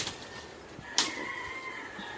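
A chicken clucks faintly in the distance over outdoor background noise, with a brief sharp sound near the start.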